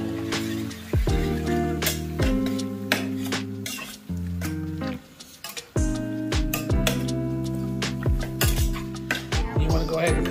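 Soy sauce and tomato sauce are stirred together in a pan, with steady sizzling under repeated clinks and scrapes of a utensil against the metal and a low steady hum behind them.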